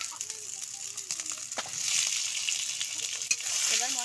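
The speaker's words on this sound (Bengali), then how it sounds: "এবার আমি ভেজে রাখা আলুগুলো দিয়ে দিচ্ছি।" Fried potatoes tipped into a pan of sizzling, well-cooked spiced masala: a steady close frying hiss swells as they land, with a brief utensil clink near the end.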